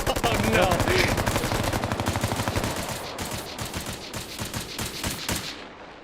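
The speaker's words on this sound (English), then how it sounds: "About to walk into a machine gunner" Rapid machine gun fire in the video game Bellum, sustained fast bursts loud and close at first, then tapering into slightly softer, more spaced volleys.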